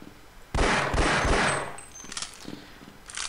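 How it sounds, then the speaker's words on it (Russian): Gunfire in the video game Half-Life: a sudden loud burst of rapid shots, then a few quieter scattered bangs and a final short burst. "Всего три выстрела."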